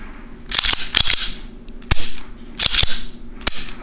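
A Walther CCP pistol slide being pushed down onto the frame for reassembly gives a string of sharp metallic clicks and clacks up close, some in quick pairs, with quieter handling between them and no speech.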